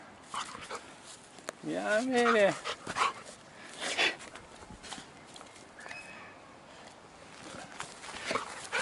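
A nine-month-old golden retriever puppy gives a rising-and-falling whimpering yelp among scuffling and rustling during an outdoor cherry-blossom walk, while someone speaks briefly.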